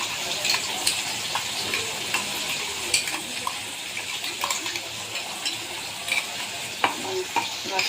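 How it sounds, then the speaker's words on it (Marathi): Ground spice paste frying in hot oil in a kadai, a steady dense sizzle with crackling pops and stirring scrapes throughout, close and fairly loud with no talk. "चला मस्त आता कढईत वाटण टाकून तेल गरम झालंय"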